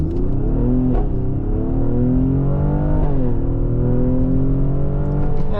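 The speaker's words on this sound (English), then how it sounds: "And we'll floor it." A 2018 Mercedes-AMG GLE 43 4MATIC in Sport Plus mode accelerates at full throttle, engine droning loud and close from inside the cabin as revs climb steadily, with two brief dips for gear shifts.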